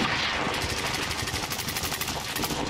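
Rapid automatic gunfire in the video game Call of Duty: Warzone, a loud, dense stream of shots hammering steadily through the whole stretch with no talk over it.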